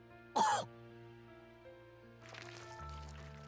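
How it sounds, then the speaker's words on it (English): A single sharp, loud cough bursts out as Princess, a character in the video game NIKKE, coughs up blood, set against a steady tonal game-music bed that shifts lower near the end. "Princess suddenly coughs up blood."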